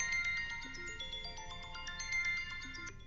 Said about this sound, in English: It's just my text, it's not a phone.